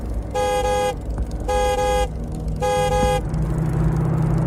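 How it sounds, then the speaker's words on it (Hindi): A car closes in from behind on a road and sounds its horn in three long, loud blasts over a steady engine and traffic rumble, used as a sound effect in a horror story. "वो गाड़ी भी साइड में हुई, इंदर की साइकिल के ठीक पीछे आई और एक बार फिर से"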